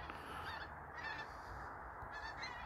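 Geese honking outdoors in a steady, overlapping chorus of calls from a flock, fairly faint and distant-sounding against background noise, with no talk.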